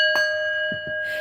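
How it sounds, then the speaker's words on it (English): A bell is struck, giving a steady, clear sustained ring with a few soft knocks and taps beneath it, close and fairly loud. "Let's ring the bell."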